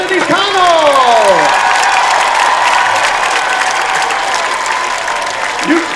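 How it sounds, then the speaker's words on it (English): Stadium crowd at a homecoming high school football game applauding a trumpet soloist and baton twirler: sustained, dense clapping from a large crowd, heard with a public-address voice speaking over the start and the end. "Nice round of applause for trumpet soloist Camden Hildy and our very talented baton twirler, Kennedy Connell."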